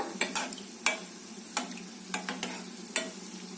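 Mini gulab jamun frying in hot oil while being stirred, a low steady bubbling hiss broken by several sharp clinks and scrapes of a ladle against the pan, close and fairly quiet.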